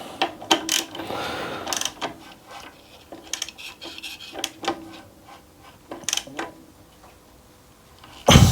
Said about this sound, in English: let's get a spanner for that and do that up